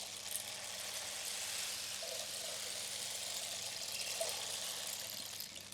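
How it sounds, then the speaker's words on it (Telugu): A rain stick, also called a water stick, is slowly turned during a sound-healing session, pouring out a faint, continuous, soft rushing hiss of tiny rattling grains with no voices. "సో దీన్ని ఏమంటారంటే వాటర్ స్టిక్ అంటారు."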